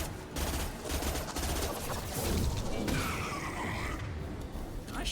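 Gunfire in the video game Mass Effect 2, a dense loud burst of rapid shots and mechanical clatter running steadily through the whole stretch with no pause.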